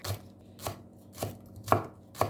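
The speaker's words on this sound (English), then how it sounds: "Now chop the stem of the spring onions and put together with the garlic" A knife chops spring onion stems on a board, five evenly spaced firm thuds at a steady rhythm, close and clear with nothing else heard.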